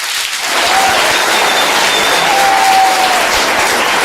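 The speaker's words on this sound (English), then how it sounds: "Can we give another round of applause to Mr. James?" Audience applause at an outdoor bench unveiling event, sustained loud clapping from a crowd that swells after a brief quieter start and holds steady throughout.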